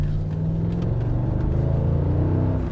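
A Mercedes-Benz CLS 55 AMG V8 accelerates on the Autobahn, a loud, steady engine drone that builds smoothly with a deep rumble and no talk over it.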